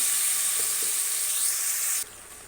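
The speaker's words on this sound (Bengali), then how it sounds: "এবার আস্তে আস্তে সেদ্ধ করে রাখা কচু শাকটা দিয়ে দেবো তেলে।" Boiled taro leaves (kochu shaak) hit hot oil in a wok with a bright, steady sizzle that hisses loudly for about two seconds, then drops abruptly to a quieter crackle.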